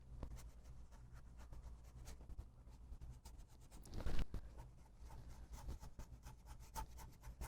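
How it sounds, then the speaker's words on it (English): A paintbrush scrapes across dry watercolor paper in quiet, close, rasping strokes. The dry scratching texture continues throughout, with one louder scrub near the middle. "You hear it scraping because I'm working on dry paper now."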